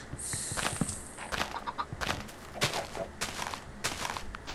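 Chickens in the Minecraft video game cluck in short bursts amid footstep-like taps and scattered game noises. A faint high tone sits at the start, and the sounds are close and fairly quiet.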